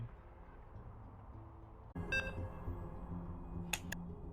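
Short electronic beeps sound during a StarCraft tournament stream, a few quick high bleeps breaking in over a quiet background hum after a sudden cut in the sound.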